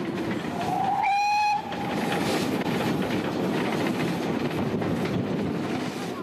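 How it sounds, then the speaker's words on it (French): Steam locomotive 3802 on the Llangollen heritage railway in Wales gives a clear whistle blast, then rumbles and clatters along the track in a steady, fairly close rolling sound. "la locomotive 3802 a fait demi-tour et rentre à Llangollen"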